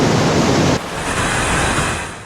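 The Barpuda waterfall in Kaprada falls powerfully from a great height into mist. It makes a loud, unbroken roar of rushing water heard close by, steady throughout with a slight drop in intensity partway through.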